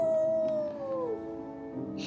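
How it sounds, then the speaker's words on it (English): Wolves howl in the VR game Wolves in the Walls: one long, falling howl rises clear then fades, with fainter tones lingering underneath and no speech. "Then they would circle in, calling out to each other with their howls."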